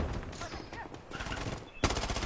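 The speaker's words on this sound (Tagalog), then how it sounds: "May nag-sniper sa kanya." Gunfire in the video game Blood Strike, with a sniper rifle among the weapons: sharp shots and rapid bursts crackle over busy game noise, with a loud, abrupt shot near the end.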